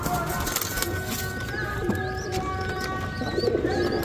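Shamiyat pigeons coo softly at a busy outdoor bird market in Baghdad, with low warbling calls rising over constant crowd murmur, distant voices and market bustle.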